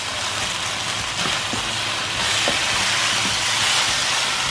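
Beef chow fun is tossed in a hot pan, a steady loud sizzling hiss with a few faint clinks of a utensil against the metal.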